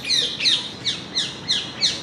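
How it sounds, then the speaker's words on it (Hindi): A parrot calls from somewhere out of sight nearby, giving about six short, bright chirps in a steady, evenly spaced series with no talk over them. "देखो तोता कितना अच्छा बोलता है ना"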